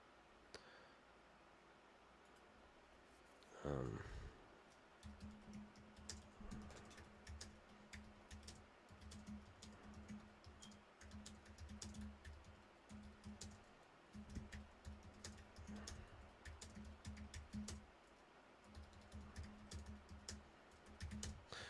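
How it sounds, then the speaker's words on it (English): Someone types on a computer keyboard during a Euro 2024 Poland vs Austria watch party, making faint, quick, irregular key clicks that run on and off with a few pauses. "Sorry if I'm typing away"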